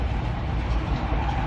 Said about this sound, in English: Tractor trailers.